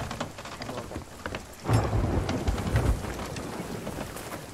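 A thunderstorm in the Sea of Thieves game, with steady rain and a sudden loud lightning strike whose crack and rumble roll on over the rain.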